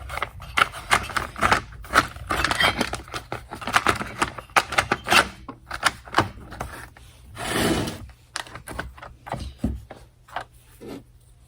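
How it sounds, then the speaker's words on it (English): A top cover slides onto a Husqvarna 390XP chainsaw during a rebuild, heard as a close run of plastic clicks, taps and rubbing scrapes in irregular bursts. "We're going to go ahead and slide our top cover on."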